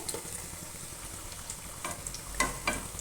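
Potatoes frying in a pan for biryani give a steady, close crackling sizzle, with a couple of louder stirring scrapes near the end.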